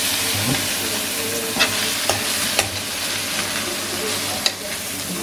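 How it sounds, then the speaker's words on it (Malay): Sambal frying in oil in a pan gives a continuous sizzle, with a few sharp scrapes and clicks as it is stirred; no one speaks. "Kita kacau lagi tadi kita letak sedikit minyak lagi supaya tak kering sangat."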